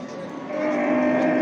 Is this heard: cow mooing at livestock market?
yes